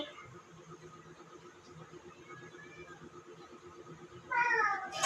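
A cat gives a short, loud, rising meow near the end, standing out against steady, low background noise after several quiet seconds.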